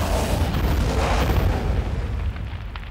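Model airship going up in flames during a fire test, a loud sustained roaring burst of burning that holds steady for about two seconds and then eases slightly, close and dense with no clear voices.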